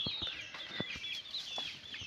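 Free-range village chickens, hens, roosters and chicks, clucking in short, scattered bursts, with higher chirps from young birds running throughout, close by and moderately loud.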